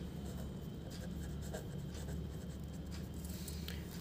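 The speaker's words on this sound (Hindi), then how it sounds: "तो हम यहाँ लिखेंगे" A pen or marker scratches across a surface while a class-six algebra math solution is written out, faint rapid strokes over a steady background hum, with no talking.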